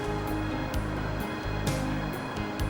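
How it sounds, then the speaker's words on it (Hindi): Sea waves surge and crash against the rocks along the shore, a steady loud wash of surf with swells rising and breaking every second or so, with no voices over it. "तुम ये समुंदर की लहरों को देख रहे हो? इतने जोर से शोर मचाती हुई किनारे की तरफ पत्थरों से टकराने के बाद खामोशी से वापस लौट जाना।"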